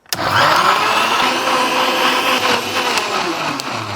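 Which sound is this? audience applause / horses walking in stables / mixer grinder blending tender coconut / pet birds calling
mixer grinder blending tender coconut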